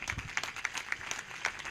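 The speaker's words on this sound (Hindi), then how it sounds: "जिनको बात समझ में आ गई वो कहें धन्यवाद परमेश्वर, और तालियों के साथ।" Congregation applause at a Hindi-language Christian prayer service, a fairly soft, steady patter of many hands clapping at once with faint voices mixed in, heard from some distance.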